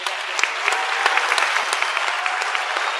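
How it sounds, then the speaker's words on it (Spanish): An audience claps for the panel speakers at the close of a public forum on nature and the environment, a steady dense applause with scattered sharper claps standing out, moderately loud and continuous throughout. "Aplauso a los expositores"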